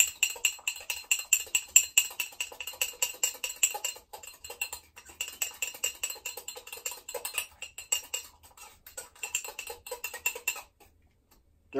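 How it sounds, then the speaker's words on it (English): Fork tines clinking rapidly against a mug while whisking mug bread batter of baking powder, stevia, salt and egg, a steady scraping clatter close up that stops near the end. "We're going to just mix it all together with a fork."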